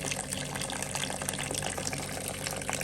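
Water runs steadily from a reverse osmosis faucet into a plugged sink, a soft, continuous splashing and filling hiss with no pauses.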